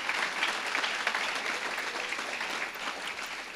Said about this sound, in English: I'd like to ask you to give them a round of applause right now